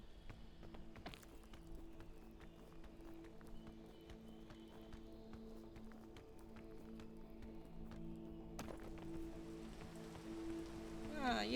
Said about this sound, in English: my favorite condition, rain